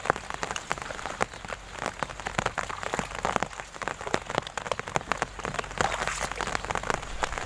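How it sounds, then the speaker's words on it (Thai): Heavy rain pours steadily on a rural roadside during a fish and crab trapping outing, a dense, hissing patter with sharp drips spattering close by throughout. "ฝนกระโตกครับ"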